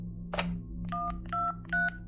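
Telephone dialing effect: a short click or rustle, then three clear, evenly spaced DTMF tones, each lasting about a quarter second, loud and close over a steady low hum.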